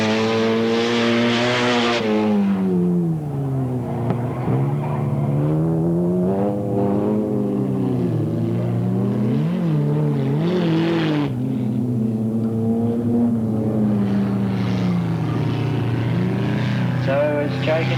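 Race cars lap Alwalton Raceway, their engines droning loud and continuous with rising and falling pitch as they pass, under a steady stream of announcer commentary.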